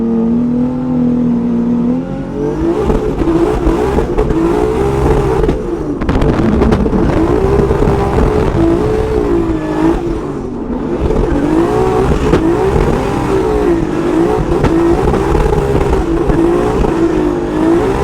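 A BMW E36 drift car at a Formula Drift event accelerates hard at full throttle, the engine loud and close, its pitch climbing and dipping through repeated surges as revs rise and fall.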